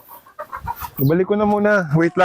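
A rooster crows loudly from a battery cage in a backyard game farm, a drawn-out crow with a rising and falling pitch, just after someone speaks briefly nearby.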